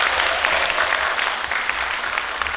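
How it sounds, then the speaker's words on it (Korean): A lecture-hall audience at a Gwangsan district academy talk applauds steadily to welcome district head Park Byeong-gyu onto the stage, a dense, even wash of many hands clapping close by with no break. "박병규 구청장님을 여러분의 큰 박수로 무대로 모시겠습니다"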